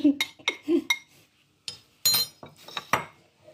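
A spoon clinks and scrapes against a bowl while chocolate cupcake batter is mixed with cocoa powder, several sharp close taps and rattling strokes in uneven bursts.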